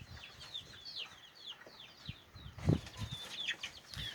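Chickens cluck on a property in western North Carolina, with several short, faint calls scattered through the scene and one louder nearby cluck partway in.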